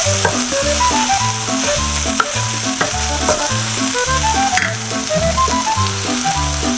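Soya bean masala with curry leaves and salt sautéing in a pan, a steady close sizzle with occasional stirring scrapes, partly covered by rhythmic background music playing throughout.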